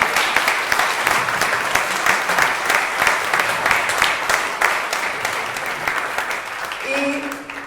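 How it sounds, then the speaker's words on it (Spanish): A banquet crowd at a Valencia gala dinner applauds steadily and fairly loudly for several seconds, dense clapping that continues without a break before a voice briefly cuts in at the end. "un aplauso, por favor, a todas esas personas que lucharon por Valencia"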